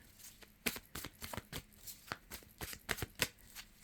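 Tarot cards being shuffled by hand, a run of quick crisp riffling snaps and soft slides in irregular bursts, close and alone without talk.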